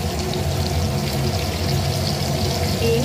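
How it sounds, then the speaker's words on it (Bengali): Onion, beans, capsicum and carrot fry in hot oil in a kadai for chicken chowmein, making a steady, dense, close sizzle that carries on without a break. "কড়াইতে তেলটা গরম করে পেঁয়াজ, বিনস, ক্যাপসিকাম, গাজর সব ভেজে নেব।"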